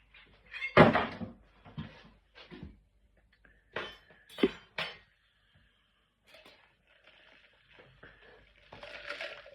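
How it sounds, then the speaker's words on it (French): Ice cubes tipped out of a cocktail glass while making a Hemingway Special, a sparse series of close clinks and knocks with quiet gaps between them and no voices. "On va vider les glaçons du verre à cocktail."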